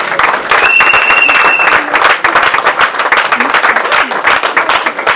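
Church congregation at a Sunday thanksgiving service applauding and cheering, steady loud clapping with crowd voices throughout, a few whistles early on.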